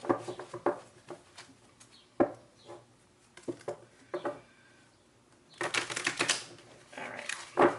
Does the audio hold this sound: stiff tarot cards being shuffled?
yes